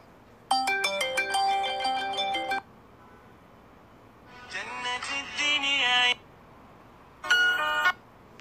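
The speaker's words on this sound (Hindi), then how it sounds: "यहाँ से मैं आपको रिंगटोन सुना भी देता हूँ।" A mobile phone ringtone from an Android app plays as three separate loud melodic bursts of tones. Short quiet gaps with a faint background hum separate the bursts.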